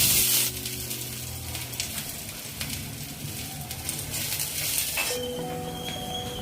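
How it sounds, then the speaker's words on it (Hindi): Garlic frying in a pan makes a loud, steady sizzle with a few metallic clinks of utensil on pan. The hiss flares at the start, settles, then continues evenly close by. "मेरी लहसुन भून चुकी है"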